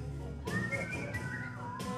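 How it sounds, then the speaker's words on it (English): A woman at a 1950s music history event whistles a short melodic phrase into a microphone, clear and close, with sliding pitched notes over a faint room hum. "There's a lady who can whistle. Whistle."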